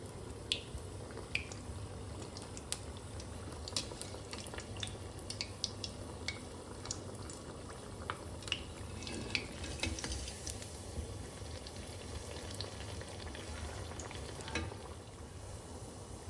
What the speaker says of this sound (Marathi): तेलात सोडलाय आपण तो गारगा.